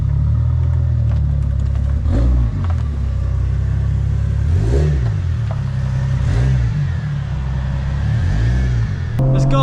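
A car pulls away after being revived with a jump starter pack: a steady close engine rumble with several rising revs as it accelerates, loud throughout.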